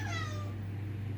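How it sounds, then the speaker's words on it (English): House cat crying unhappily as rain approaches in South Africa, a single drawn-out falling meow at close range, faint over a steady low hum and no other sound. "tell me you heard my cat crying"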